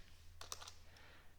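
A short burst of a few quick keystrokes on a computer keyboard, quiet and close against a low electrical hum.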